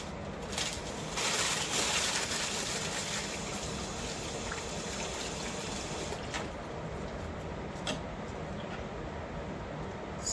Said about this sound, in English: you wet it under the faucet